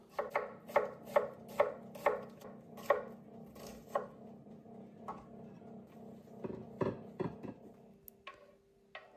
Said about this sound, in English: We will take an onion and removing the skin. And we cut it in slice.